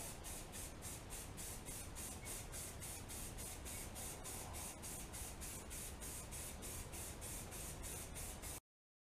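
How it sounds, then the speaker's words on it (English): Self-etching primer is sprayed onto ball joints as a continuous hissing stream, faint and close, pulsing in quick regular beats before cutting off abruptly. "go ahead and paint them. Set that up. Self-etching primer."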